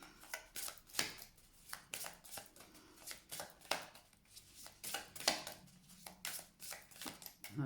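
Oracle cards are shuffled and cut by hand, giving a soft, quiet run of papery riffles and slaps in an irregular rhythm, close and alone with no talk.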